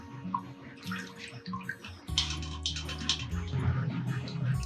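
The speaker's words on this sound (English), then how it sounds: "now I'm going to separate the curds from the whey" Whey drains off fresh cheese curds during homemade queso fresco making on an Ecuador farm. Water-like liquid splashes and trickles steadily close by, getting louder partway through, with faint background voices.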